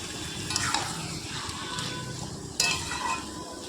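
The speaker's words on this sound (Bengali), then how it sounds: "এরপরে ভালো করে নাড়াচাড়া করতে হবে, মশলাটার সাথে মিশিয়ে নিচ্ছি নেড়ে।" Spices and taro greens stirred in a hot pan for a fish-head dish, with a steady close sizzle of frying and scraping stir strokes throughout, plus a sharper clatter near the end.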